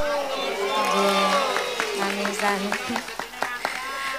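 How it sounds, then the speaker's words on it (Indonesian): An audience at an Islamic religious gathering claps for a rebana group, scattered claps and light cheering rising under a speaker's voice and busy crowd noise. "Tepuk tangan dulu dong luar biasa mantep"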